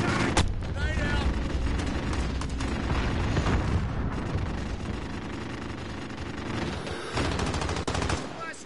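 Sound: grenade explosions and gunfire in Call of Duty: Modern Warfare video game

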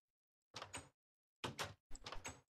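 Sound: door opening in the video game Minecraft

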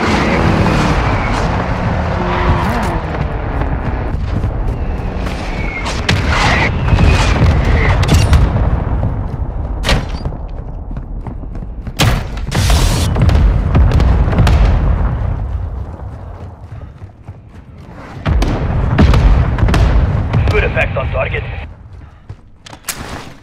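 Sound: mortar strike explosions in video game Call of Duty Modern Warfare II

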